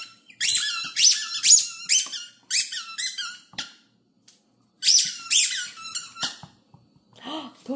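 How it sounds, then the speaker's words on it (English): A dog squeaks a squeaky toy in loud, close bursts, several rapid squeaks in quick clusters with short pauses between them. "I guess you can only squeak so many times before you get tired."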